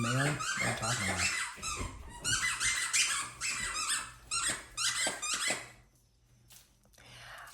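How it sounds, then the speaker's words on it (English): A dog's squeaky toy squeaks repeatedly in quick, uneven bursts, loud and close, with the dog's breathing and faint growls mixed in before it trails off into quiet. "I have a love-hate relationship with her squeaky toys because all her squeaky toys that do squeak."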